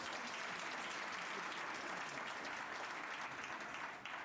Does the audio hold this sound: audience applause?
yes